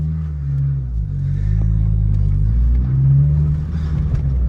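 A 149,000-mile car engine idles steadily just after starting, a loud, close, even low rumble with slight swells and no voices over it.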